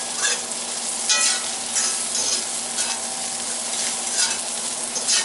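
Rib eye steak sizzling loudly in a cast iron pan, a continuous close crackle with bursts of spattering and stirring scrapes throughout, no voices.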